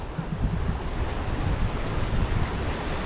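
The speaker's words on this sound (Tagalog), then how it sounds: "medyo malakas ang hangin" Strong wind buffets the microphone at Batangas City beach, a loud rough roar of gusts mixed with the wash of surf, continuous across the whole moment with no voices.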